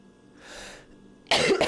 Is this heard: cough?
yes